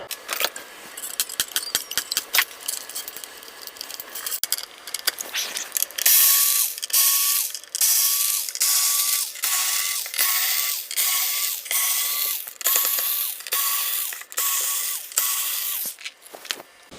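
Screws are backed out of the top of a 1999 Godin Radiator guitar with a ratcheting screwdriver, a run of sharp mechanical clicks followed by a long series of regular buzzing ratchet strokes, close and alone.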